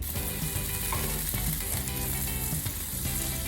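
Oyster mushrooms frying in a pan for tamales, a steady close sizzle and crackle that fills the whole stretch, with faint clinks of stirring underneath.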